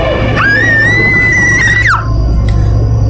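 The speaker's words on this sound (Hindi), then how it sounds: "वो बहुत जोर से चिल्लाई।" A woman lets out one long, loud, piercing scream that rises, holds and then drops off abruptly, a horror-story sound effect over a low background hum.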